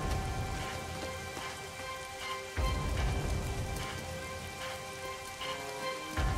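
Heavy rain in a dark scene of a Japanese video game pours steadily, a dense, loud wash on surfaces with no talking.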